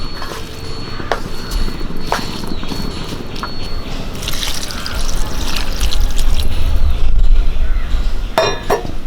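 Water poured into a pot of potato curry, a wet trickling and splashing that swells louder midway, with light clinks of utensils close by.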